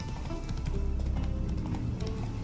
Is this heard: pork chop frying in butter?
no